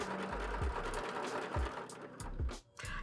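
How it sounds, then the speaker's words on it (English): A sewing machine stitches a strap attachment onto a backpack in short mechanical bursts of rapid needle clatter, close and fairly loud, with brief pauses between runs. "I'm not going to sew this on by hand, I'm going to do it by the machine"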